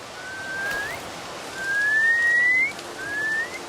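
A person whistles an imitation of a rocket frog's mating call: three thin, rising whistled notes, the middle one longest, faint over a soft outdoor background hiss.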